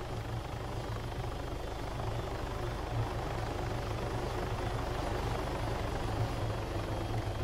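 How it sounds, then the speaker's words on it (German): A helicopter in the video game ARMA 3 drones with a steady rotor thump and engine roar, continuous and moderately loud, with no talk. "Hält hier irgendwo ein Heli an?"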